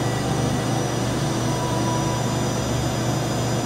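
An Okuma Howa Millac 438V CNC vertical machining center spindle running, a steady loud whir with a constant hum and high whine, no voices.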